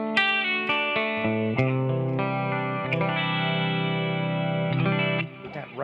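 Clean electric guitar run through a Behringer V-Amp patch with hard, fast-attack compression and chorus, playing sustained chords and picked notes, loud and close, with no talking.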